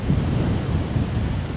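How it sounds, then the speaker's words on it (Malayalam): Strong gusting wind at Kattikkayam waterfalls in Kottayam, heard as a continuous low roar and buffeting rumble against the microphone, loud and unbroken, with no voices. "കൊടുങ്കാറ്റാണ് വീശിക്കൊണ്ടിരിക്കുന്നത്."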